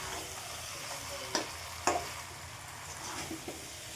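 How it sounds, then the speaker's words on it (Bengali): Pieces of fried taro, pumpkin, potato and eggplant being stirred in a pan, with a soft steady sizzle and a few sharp scrapes and clacks of the spatula, nearby and moderately quiet. "এবার ভালো করে কষিয়ে নিতে হবে এটা।"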